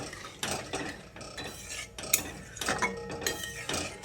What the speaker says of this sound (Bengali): এবার জলটা দিয়ে মশলাটাকে খুব ভালো করে নেড়ে চেড়ে মিশিয়ে নিচ্ছি।